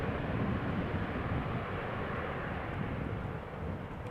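An Airbus A340 airliner passes overhead at Amsterdam Schiphol, a broad, loud, steady engine roar that fades slightly toward the end, with no voices.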